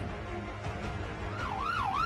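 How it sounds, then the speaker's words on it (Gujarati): A police car siren wails at night during a combing operation in Rajkot. A rising and falling electronic tone enters in the second half over low street and traffic rumble, fairly distant but clear. "પોલીસની ગાડીના જેવા રાત્રે અગિયાર વાગે સાયરન વાગ્યા"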